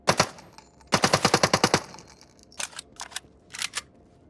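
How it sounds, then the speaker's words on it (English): Gunfire in the sci-fi video game QANGA: a short opening burst, then a fast rapid-fire volley, followed by several spaced, sharper single shots. Loud and close, with no voices. "I shot his ass."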